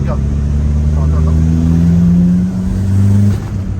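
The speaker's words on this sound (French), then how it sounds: "écoute le bruit de moteur" Running turbo diesel car engine, a steady low droning hum with rising and falling tones, continuous and fairly loud throughout, with a brief dip near the end.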